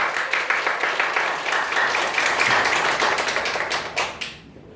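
An audience breaks into a short burst of dense clapping at a church panel discussion, moderately loud and continuous for about four seconds before fading away.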